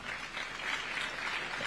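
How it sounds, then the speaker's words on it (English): An audience clapping together at a live presidential address, a dense, even patter of many hands heard from a distance for a couple of seconds. "A round of applause for her."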